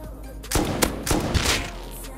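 Gunshots in Rust ring out in a quick burst of three or four sharp, fairly close cracks across about two seconds, with no talking.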